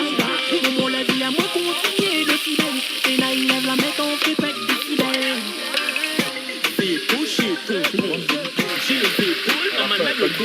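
Meat and spices frying in a pot for kalou pilon give a loud, steady sizzle with stirring and scraping clatter throughout. A sustained musical tone sits underneath, and nobody speaks.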